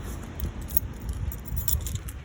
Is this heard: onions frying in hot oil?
no